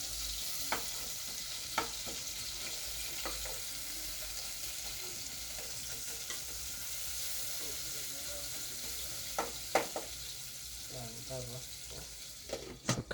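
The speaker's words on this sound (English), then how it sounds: "Yes, so you stir the onions." Onions frying in a heated pot, stirred now and then, give a continuous even sizzle with occasional sharp spoon taps and scrapes against the pot, fairly close and without talk.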